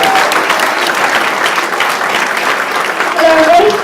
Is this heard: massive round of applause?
yes